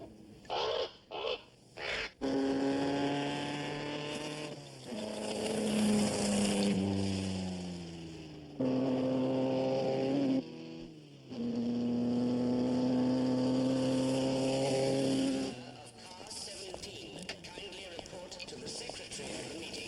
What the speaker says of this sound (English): never seen a Bugatti fly like that before